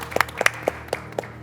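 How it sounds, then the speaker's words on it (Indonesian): A small audience applauds the participants at an awards show. The hand claps are sparse and distinct, spaced at uneven intervals, with roughly six claps spread across a second and a half against a quiet room. "kita beri tepuk tangan sekali lagi untuk para peserta"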